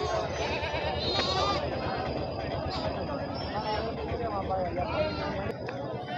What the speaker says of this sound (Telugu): మేకలు వచ్చినాయి ఇప్పుడే.